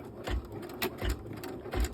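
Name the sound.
embroidery machine stitching out a purse step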